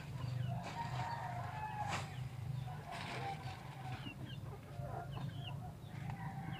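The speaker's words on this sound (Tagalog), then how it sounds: "dito po yung manok ko" Chickens cluck on and off nearby over a steady background hum, with a few sharper squawks.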